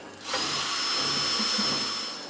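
A power drill spins up and runs steadily to whisk coolant in the coolant tank of a milling machine, giving a continuous high whine with faint sloshing underneath, close and alone.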